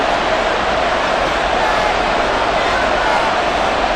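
A stadium crowd in Madden NFL 24, at a Los Angeles Rams vs Arizona Cardinals game, roars as an unbroken wash of loud cheering noise that holds constant from start to finish.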